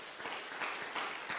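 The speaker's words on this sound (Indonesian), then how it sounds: "Mau tepuk tangan buat Tuhan Yesus?" A church congregation claps together in a steady, dense burst of applause lasting the whole moment, with a few louder swells and no voices on top.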